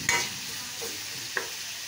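Chicken stir-fried with garlic in a pan for adobo with oyster sauce, a steady close sizzle broken by three short scraping stirs of the spatula, no talking.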